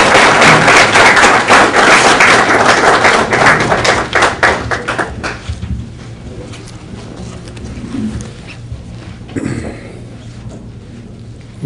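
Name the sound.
audience applause for a speaker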